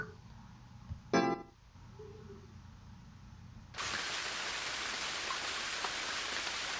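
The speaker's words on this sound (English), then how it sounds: "I can hear the sound of rain." Steady rain in the video game Ame no Marginal on a rainy road: a sudden, broad hiss of falling rain swells in partway through and holds at an even level, after a brief clink and some quiet ambient tones.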